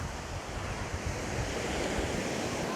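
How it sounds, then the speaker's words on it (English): Ocean waves wash steadily onto the shore at the water's edge of Gwangalli beach, a continuous, fairly close surf roar with some wind buffeting the microphone and no voices. "dip my feet in the water, walk along the water's edge for a little while"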